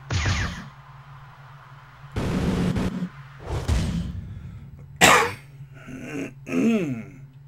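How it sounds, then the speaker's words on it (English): Someone clears their throat several times between breaths, harsh raspy bursts spaced across the stretch, loud and close, with a couple of short coughs and strained vocal sounds near the end. "Hot tea just isn't clearing my throat."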